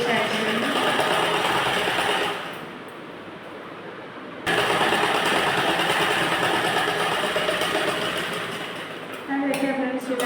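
A sewing machine runs in long steady bursts while stitching a blouse, its loud whirring motor pausing briefly partway through and again near the end.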